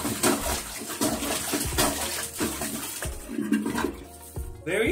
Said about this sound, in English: place the plunger at an angle and start pumping